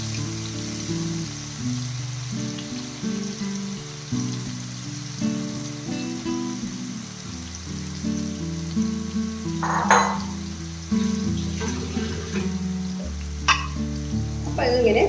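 Paneer pieces fry in hot oil in a home kitchen, giving a steady close sizzle with occasional stirring scrapes and clinks, and a louder burst of crackle partway through; nobody talks.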